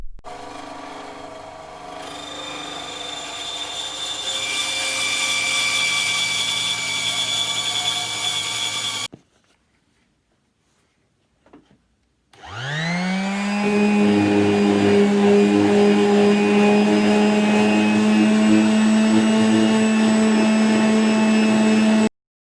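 A bandsaw cutting pallet wood: the motor hums with a steady whine, cuts off into near silence, then spins back up to a loud, sustained drone.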